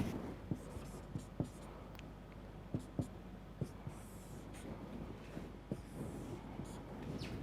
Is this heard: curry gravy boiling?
no